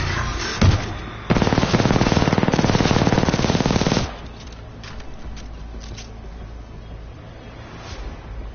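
Automatic gun in Titanfall 2 firing one sustained rapid burst of about three seconds, loud and close, followed by quieter battle ambience with scattered distant pops.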